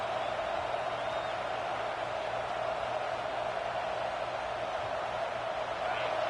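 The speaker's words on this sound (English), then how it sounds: "This crowd trying to make life miserable for this offense." A stadium crowd at an LSU football game roars as a constant, dense wash of noise, steady and moderately loud throughout without distinct voices.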